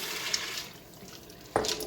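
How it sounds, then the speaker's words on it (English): Water is poured into an Instant Pot over dried pinto beans in a couple of short splashing bursts, the second a sharp close gush, with quiet pauses between and no talking. "now I'm going to just add in my beans, my dried beans. And we're going to add that water."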